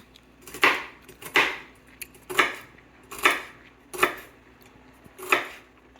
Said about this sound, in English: Get ready for a little montage of me chopping veggies.